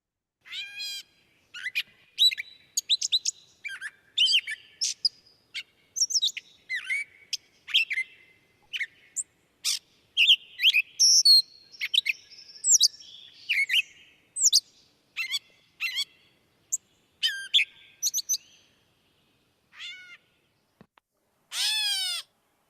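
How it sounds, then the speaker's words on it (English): A gray catbird sings a long, varied run of quick chirps, squeaks and mewing notes in bursts with short gaps between them, clear and fairly close, with no voices. "the bird that we're hearing now is the gray catbird"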